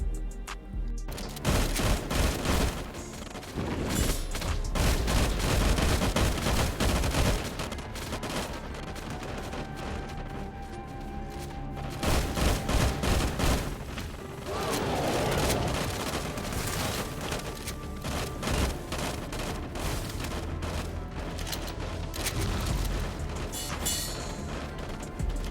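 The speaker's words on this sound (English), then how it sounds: "Now keep shooting." Rapid gunfire bursts ring out in the mobile shooter LifeAfter, with dense, repeated volleys and crashes that run almost continuously and loudly.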